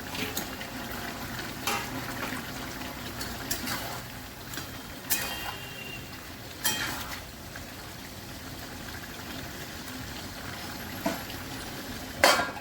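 Mixed vegetable curry with fish heads cooking in a pot, giving a steady bubbling, hissing boil throughout with occasional brief clinks and stirring bumps close by.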